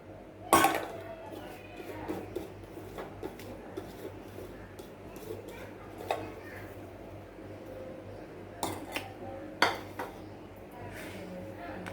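A spoon stirring corn flakes, dry fruit powder, sugar and cardamom powder in a bowl for laddu, giving soft scattered scrapes and light clinks, with a few sharper knocks against the bowl.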